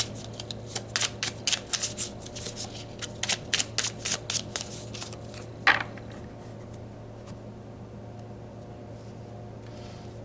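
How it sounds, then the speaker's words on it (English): Tarot cards being shuffled and pulled for a reading, a run of crisp riffling flicks over the first six seconds ending in one sharper snap, then quiet room tone. "So let's pull more cards about this"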